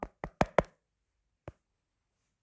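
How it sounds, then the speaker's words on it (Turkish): Knocks on window glass: four quick raps in a fast cluster, then a pause before two more isolated knocks, crisp and close in an otherwise silent room. "Birisi tıklattı sanırım camı."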